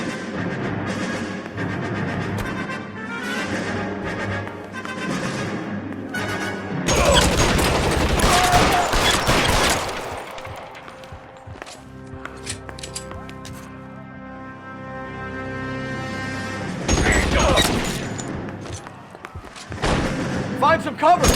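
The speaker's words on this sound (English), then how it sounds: "Shots fired." Gunfire erupts in a shootout in the video game L.A. Noire, with loud bursts of rapid shots around the middle and again near the end, set against a dense game score and radio-style voices.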